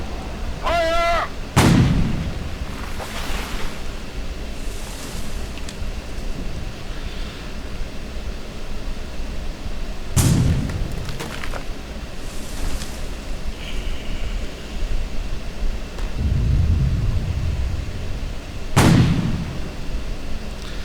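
Artillery guns fire in the WWII strategy game Sudden Strike 3, with several heavy booms spaced seconds apart over a constant battlefield rumble, one followed by a short whistling shell sound.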